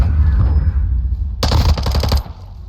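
A gold FSS Hurricane submachine gun fires in Modern Warfare 2, one rapid, loud burst of just under a second breaking over a low rumbling background.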